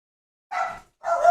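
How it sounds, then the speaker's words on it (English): Two short, sharp dog barks separated by a brief pause, fairly close and loud against an otherwise silent background. "that's my dog barking."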